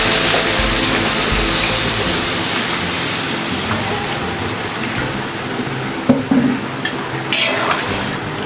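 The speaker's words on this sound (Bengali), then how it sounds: "এবার একটু জল দিয়ে দেবো।" Water is poured into a pot of potato curry, a steady rushing splash running for several seconds and then tapering into a few faint clinks and drips, close by with no talking.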